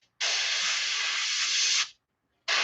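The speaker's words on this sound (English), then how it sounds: "spray down black, because what you'll get is you'll get little half circles, shadows of overspray" An airbrush sprays black paint onto a fishing lure in a steady, close hiss lasting over a second and a half, stopping briefly before a second burst starts.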